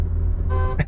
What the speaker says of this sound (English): Can I hit the horn?